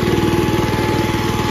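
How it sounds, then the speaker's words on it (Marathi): A tractor engine runs at a steady throb out in a wet, muddy field, a loud close rhythmic drone with no voices. "कारण की ट्रॅक्टरचा आवाज आहे"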